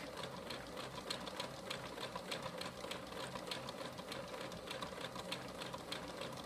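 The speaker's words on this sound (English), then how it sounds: "And I zigzag stitch all the way to the end." A sewing machine runs a zigzag stitch along fabric, giving a steady, fast mechanical whir and rapid needle clatter at moderate, even loudness throughout, with no talking.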